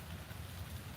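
Rain falls steadily in a Kenyan forest, a faint, even hiss of drops across the canopy with no voices.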